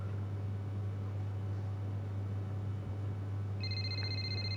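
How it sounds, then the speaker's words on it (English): Phone ringing in the racing video game Braking Point 2: a steady electronic ring tone enters near the end over a constant low hum and background noise. "Oh, God, phone's ringing again."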